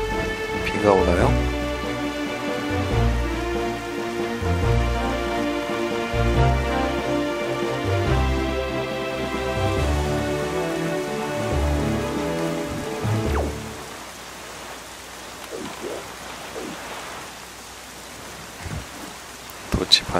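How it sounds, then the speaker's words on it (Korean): Stormy rain in The Legend of Zelda: The Wind Waker. Loud game music plays first, then cuts out and leaves a steady hiss of falling rain with a few sharp drops near the end. "비가 오나요?"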